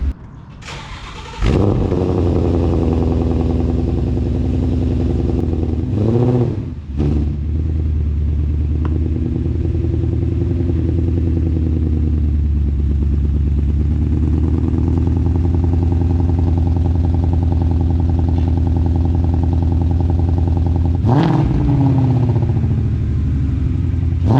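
A Ford Mustang GT with a modified exhaust starts with a sharp revving burst, then settles into a loud, steady low rumble with a few brief throttle blips while driving.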